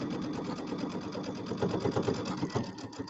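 A sewing machine runs continuously, stitching a Halloween settee pillow with a fast, even mechanical chatter that stays close and steady throughout.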